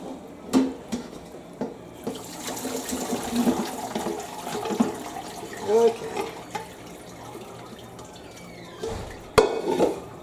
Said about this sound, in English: Okay, we're straining the second pot.